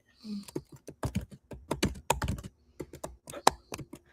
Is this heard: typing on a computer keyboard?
yes